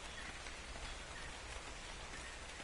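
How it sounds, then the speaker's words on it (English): Heavy rain pours through a forest in Ark: Survival Evolved, a steady dense hiss of drops with no breaks, close and even, without talk. "This rain is brutal"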